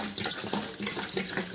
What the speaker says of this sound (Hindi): साथ ही हम इसमें 1 लीटर पानी को शामिल कर देंगे।